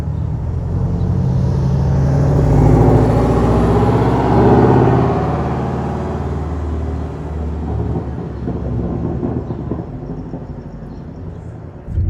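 A 2019 Porsche 718 Boxster driving, with a loud, broad engine and road rumble that swells early, then settles into a steadier, slightly quieter drone, with a short bump right at the end and no talk.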